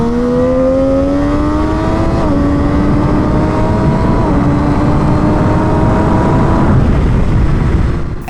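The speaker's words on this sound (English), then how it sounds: "The exhaust note of a three-cylinder is also super characterful and unique in my opinion" Three-cylinder motorcycle engine exhaust note, loud and close, rising steadily in pitch through several gear changes as the bike accelerates hard and pulls away.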